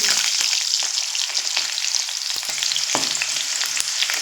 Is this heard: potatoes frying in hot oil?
yes